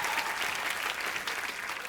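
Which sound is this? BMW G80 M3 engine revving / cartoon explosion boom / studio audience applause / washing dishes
studio audience applause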